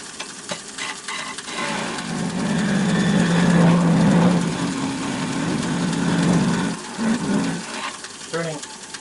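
A wood lathe turns a box piece with a low mechanical hum that swells in the middle of the clip, with cutting and scraping noises, under intermittent voice.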